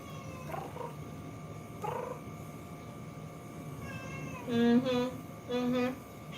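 A cat meows several times, drawn-out and insistent, with a soft low rumble underneath and faint room noise between calls.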